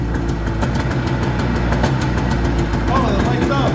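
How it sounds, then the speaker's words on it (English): A Yamaha snowmobile engine idles after a choke start, giving a loud, steady, rapid low chugging close by, with someone talking over it. "And it's idling."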